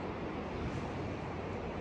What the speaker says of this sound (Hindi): ये नदी की आवाज़ यहाँ तक आ रही है।